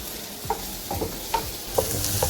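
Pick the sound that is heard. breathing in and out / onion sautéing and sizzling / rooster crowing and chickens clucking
onion sautéing and sizzling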